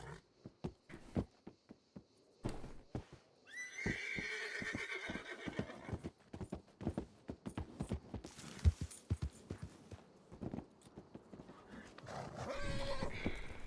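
A horse in a video game neighs and whinnies several times, loud and close, amid clip-clop hoofbeats and intermittent sharp clicks and thumps, with no talking.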